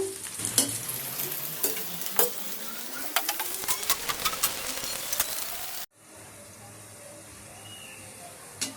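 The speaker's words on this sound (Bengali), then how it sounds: "পেঁয়াজটা হালকা গোল্ডেন কালার করে ভেজে নিতে হবে" Chopped onions fry in hot soybean oil in a wok, sizzling steadily with repeated stirring clatters for about six seconds before cutting to a quieter, hissing sizzle.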